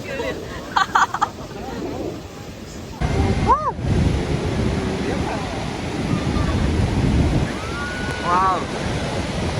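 Niagara's Horseshoe Falls roaring from a boat beneath the falls, a dense, steady wash of crashing water and spray buffeting the microphone with wind, while excited voices shout and call out over it.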